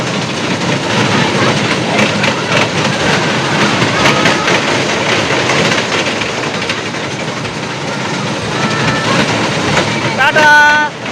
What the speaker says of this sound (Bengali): জোরে চলছে ট্রেনটা